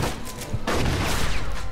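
Shotgun fired in the Mafia II video game: a dense burst of blasts and booming noise fills the short moment, close and loud, without any talking.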